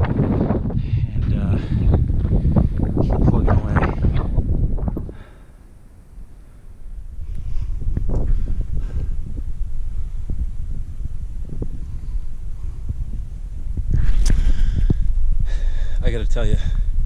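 Strong wind near the top of a cliff on the Huntington Ravine Trail up Mount Washington, New Hampshire, roars and buffets the microphone in loud, rumbling gusts that ease briefly before returning.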